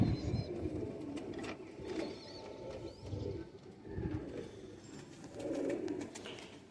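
Ferozpuri pigeons cooing in a loft, soft low repeated coos rising and falling through the clip with faint chirps and ambient noise behind.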